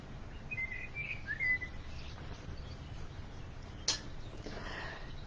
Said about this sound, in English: So the birds are actually my soundtrack on on YouTube.